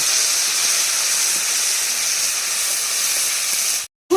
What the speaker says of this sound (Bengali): আদা রসুন আর শুকনো লঙ্কা বাটা বাটা কাশ্মীরি লঙ্কার গুঁড়িটা দিয়ে দেবো দিয়ে মশলাটাকে যতক্ষণ তেল উঠে না যায় ততক্ষণ পর্যন্ত ফ্রাই করবো